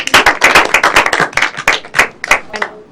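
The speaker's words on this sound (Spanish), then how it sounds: "Para ti, un aplauso a Ale." Enthusiastic clapping from a small group, sharp uneven claps in quick succession that taper off toward the end.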